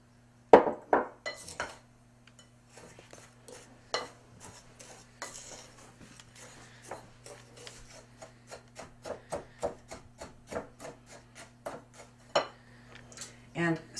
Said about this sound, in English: mix in half a cup of regular sugar. Then one cup of graham cracker crumbs.